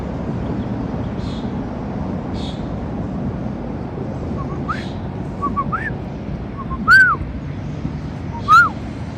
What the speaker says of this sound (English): There's a robin.